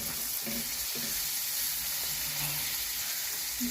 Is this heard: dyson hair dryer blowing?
no